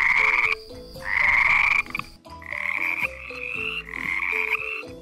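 Frogs croak loudly in a swamp in a repeated, buzzing chorus, several long calls following one another with brief pauses between.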